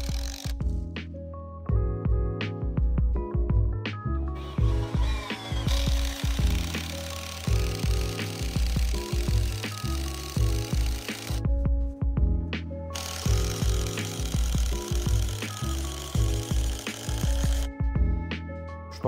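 A cordless brushless impact driver fitted with a hex bit drives roofing screws in loud, close rattling bursts of rapid hammering, with short pauses between screws.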